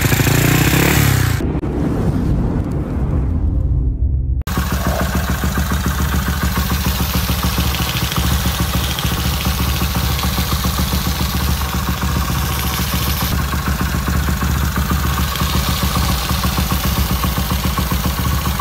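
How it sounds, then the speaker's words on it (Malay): A Honda EX5 motorcycle engine idling steadily with a fast, even putter and mechanical clatter, close and loud, after a brief rough start. "motor hidup okay"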